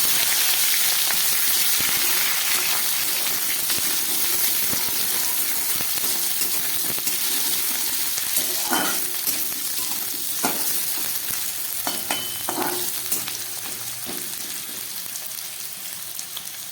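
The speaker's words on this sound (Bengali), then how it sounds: "তেলটা গরম হয়ে গেছে, আমি এর মধ্যে আলু আর ক্যাপসিকামটা একটু ভেজে দিই" Potato and capsicum pieces fry in hot oil in a kadai, giving a steady close sizzle with bursts of crackling and spoon scrapes, easing slightly toward the end, with no voices.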